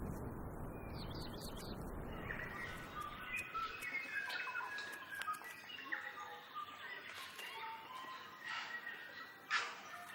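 Kea parrots in New Zealand call from their mountain territory, a series of bright chirping and whistling cries, fairly faint and somewhat distant, rising and falling in short bursts over a quiet background.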